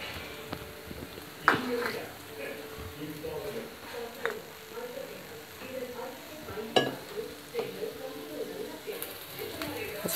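Two eggs frying in a pan on the stove while being stirred, with a soft sizzle under occasional sharp metal clinks and scrapes of the utensil against the pan. Someone talks over it.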